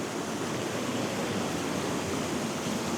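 River rapids rush in a dense, continuous broadband roar, steady and fairly close, with no voices over it.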